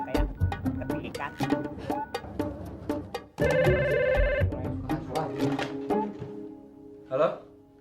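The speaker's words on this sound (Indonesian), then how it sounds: "Buat telepon si Bagus." Telephone ringing mid-scene: a bright electronic ring blares for about a second amid clattering and movement, with faint voices and knocks around it.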